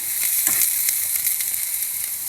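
Salted mackerel fries in a pan with a steady, close bright sizzle and hiss, crackling continuously without any voices.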